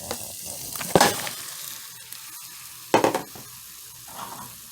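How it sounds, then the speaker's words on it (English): Ground beef hitting a hot pan of sautéed green peppers, onions and minced garlic, with two loud bursts of sizzling and stirring clatter over a steady background hiss. "once the green peppers, onions, and minced garlic have finished sauteing, we are going to go ahead and add our ground beef"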